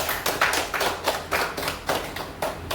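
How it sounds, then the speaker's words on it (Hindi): An audience claps in unison on request, about six sharp, evenly spaced claps roughly every half second, close and fairly loud with no talk over them. "तालियां बजाने को तो आता है अपने को, बजा के दिखाइए।"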